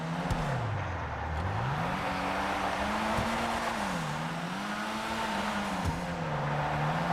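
Benny's drift car in GTA V drifts with a loud, continuous engine roar whose pitch rises and falls as the throttle swells, over a constant hiss of sliding tyres, close and alone.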